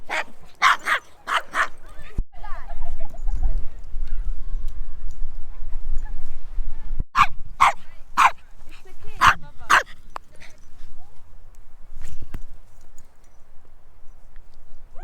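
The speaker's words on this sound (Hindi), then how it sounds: "तो भाई ये कुत्ता जाने की बॉल लेके भाग गया।" A dog in Hungary barks loudly and close by in quick clusters of sharp yaps, with pauses and softer whining sounds between the bursts.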